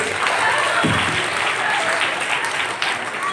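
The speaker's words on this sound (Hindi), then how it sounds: "एक बार जोरदार तालियां हो जाए सर के लिए" A school drama audience breaks into loud, dense applause for a teacher, sustained clapping from a large crowd close by that carries through to the end.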